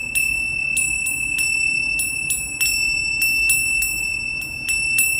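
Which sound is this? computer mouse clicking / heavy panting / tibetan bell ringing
tibetan bell ringing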